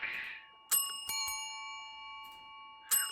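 A handheld bell in the ghost-hunting video game Phasmophobia rings several times in bright, sustained dings, two close together early and one more near the end, each leaving a lingering ring.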